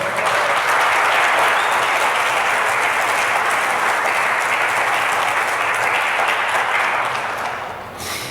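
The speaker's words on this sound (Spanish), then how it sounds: "Dale un aplauso al Señor." Sustained applause from a church congregation, dense and steady, fading slightly near the end.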